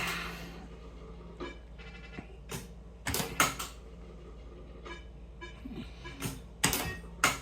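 A Fruit Banker fruit machine playing at a 10p stake with a £3 jackpot, giving off a run of mechanical clunks, creaks and sharp clicks from its reels and mechanism, close and fairly clear, with no talk over it.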